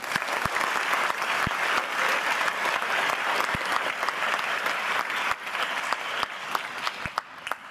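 Warm applause from a concert audience greets the Taitung University music department wind orchestra and its conductor, Professor Liang Zhaofeng, at a Taitung joint concert. Dense, sustained clapping is spiked with sharper individual claps and keeps going throughout.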